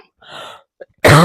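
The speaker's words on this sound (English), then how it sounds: "I'm really aggravated that I keep coughing." A person coughs once or twice in a short, sharp burst with a little quiet breath between, close and fairly loud, followed right after by speech.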